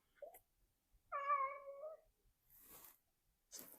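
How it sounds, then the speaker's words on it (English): A house cat meows indoors: a short chirp, then one drawn-out, clearly pitched meow, followed by faint soft rustling, all quiet and close with no talking. "My cat is here meowing if you hear him."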